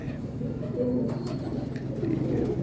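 Teddy breed pigeons cooing on an early misty morning, low soft coos in a steady murmur, close by, with faint background noise and no clear talk.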